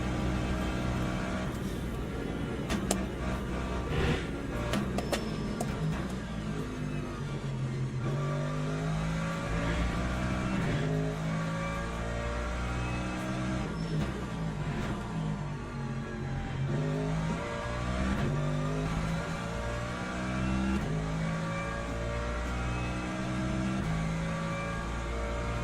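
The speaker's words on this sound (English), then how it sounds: "Hypercar coming through here." Hypercar engines in Le Mans Ultimate scream past in a race, with rising and falling pitch sweeps as cars accelerate and overtake; loud, continuous and layered, no talking.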